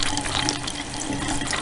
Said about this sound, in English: so that the water can flow upwards, okay, and it will fill the entire condenser